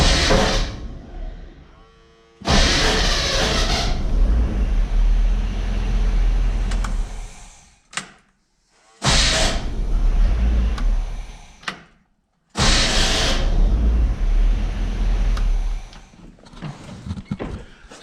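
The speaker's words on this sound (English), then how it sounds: "So we're going to hop in the truck, hit the starter for the first time," A Chevrolet K30 Squarebody truck with a new starter cranks and runs in several bursts, each a loud rough engine roar broken by short silences, close to the listener.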